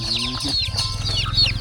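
Chickens clucking in a rural village yard among free-roaming ducks and other livestock, a run of short repeated clucks and calls close by with no talk.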